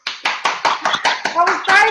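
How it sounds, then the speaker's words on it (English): Eight sharp hand claps in a steady rhythm, close and fairly loud, with a little indistinct vocal sound mixed in near the end. "I was trying to clap at the sales that you got from just demonstrating the products"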